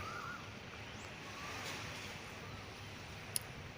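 Gentle sea waves wash steadily at Naklua Bay in North Pattaya, a low, continuous surf hiss with light wind, faint and distant and heard alone.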